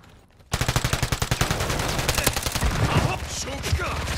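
Rapid automatic gunfire in the Warzone video game comes as a fast, loud, regular burst of shots that runs almost continuously after a quiet opening, with a voice briefly audible underneath.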